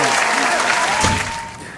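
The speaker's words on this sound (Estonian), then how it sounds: "Plaksutame Loorele, palju õnne" An audience at a sports club awards ceremony applauds loudly and steadily, the clapping fading toward the end, with a voice briefly audible underneath.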